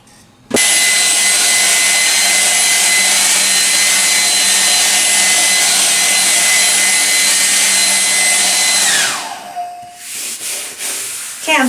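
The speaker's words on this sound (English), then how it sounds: "Then I'll just dry it with my hair dryer." A hair dryer runs steadily, drying watercolor paper stretched and stapled flat, a loud continuous blowing hiss with a constant whine that holds for about nine seconds before the motor winds down and cuts off, leaving quiet room noise.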